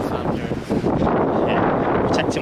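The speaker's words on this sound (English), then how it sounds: "It's very windy now." Strong wind buffets the microphone at Blackpool Pleasure Beach at night, a loud, steady rushing roar that continues throughout with no clear speech over it.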